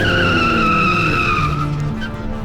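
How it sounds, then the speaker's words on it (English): A car speeds away with its tires squealing, a loud, sustained screech over the rising engine note that fades slightly over a couple of seconds. "jumped in his car and sped off"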